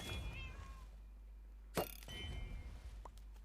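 Faint meows from a Minecraft cat sound over a humming game backdrop, with a sharp brief impact in the middle and another short meow later; no talking.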